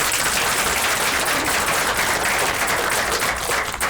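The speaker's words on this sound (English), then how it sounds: "General McDaniels deserves a round of applause" An audience applauds General McDaniels, praised for his Homeland Security work for the state and nation, in a dense, steady wash of many hands clapping that holds at an even loudness throughout.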